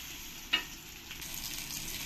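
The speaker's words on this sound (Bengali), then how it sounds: "পেটিগুলোকে এরকম করে লাল লাল করে সব ভালো করে ভেজে নিতে হবে।" Katla fish belly pieces fry in hot oil with a faint, steady sizzle, broken once early by a sharp little pop and swelling slightly toward the end.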